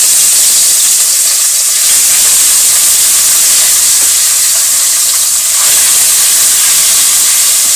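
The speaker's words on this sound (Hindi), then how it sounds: "कढ़ाई गरम हो गया। अभी मैं मछली डाल रहा हूँ करके।" Rohu fish pieces hitting a hot kadhai of oil for a Manipuri-style fish curry, producing a loud, steady, close sizzle and hiss that continues without pause.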